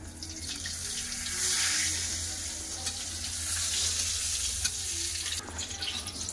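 Eggplant slices frying in hot oil while being flipped, a continuous close sizzle with faint scraping and handling noises, no talking.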